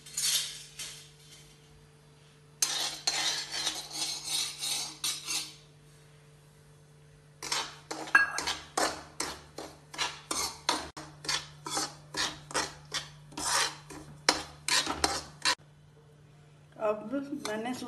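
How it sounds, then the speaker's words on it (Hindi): Semolina roasting in a couple of spoonfuls of ghee in a pan for masala idli, with bursts of scraping and clinking of a spoon against the metal pan in rhythmic strokes, separated by pauses under a steady background hum. "थोड़ा सा दो चमचे घी डालकर इसको रोस्ट करूंगी"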